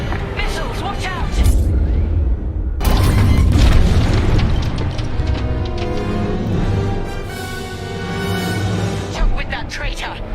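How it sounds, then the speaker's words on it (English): Missile explosions boom in Star Wars Squadrons space combat, with heavy rumbling blasts and mechanical whooshes layered over game music, while voices speak throughout. "Missiles, watch out!"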